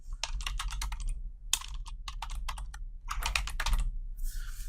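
Rapid typing on a computer keyboard, crisp close key clicks in quick bursts with short pauses, alone without talk.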